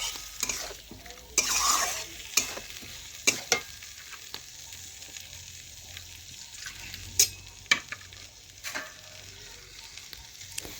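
Cashew and poppy seed paste being stirred into cooked masala, a soft sizzle underneath with intermittent scraping clinks of a spoon against the pan, moderately close and fairly quiet, no talking.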